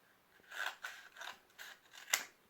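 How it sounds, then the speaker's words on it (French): Scissors snip through a small piece of material for a handmade decorative sign, giving five or six quiet, crisp cuts in an uneven rhythm, close by with no talking. "donc on découpe notre petit morceau"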